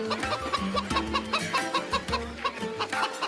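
Hen clucking close to the microphone, with repeated short, choppy clucks and squawks in an irregular rhythm that continue throughout the clip.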